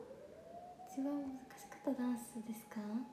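A siren wails steadily in the distance, a single rising then held tone, while a person speaks over it in the foreground.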